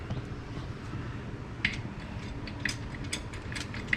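A Porto-Power hydraulic spreader forcing apart welded control arm mounts: a few sharp metallic ticks and ratchet-like clicks over a steady low mechanical rumble, close by and moderately quiet, with no talking.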